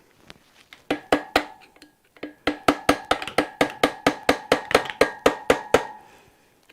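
A hammer strikes a metal punch while motorcycle lockers are fitted on a Honda CL125S under restoration: a few scattered taps, then a quick steady run of about sixteen sharp ringing metallic blows, loud and close.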